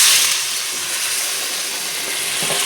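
Water poured into a pan of frying potato masala, a loud, steady sizzling hiss that flares at the start and holds on, dense and bright, without voices.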